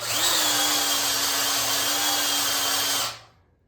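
A power drill spins steadily to prime the oil system of a small-block Mopar 360 engine, a loud even whine held for about three seconds before winding down and stopping.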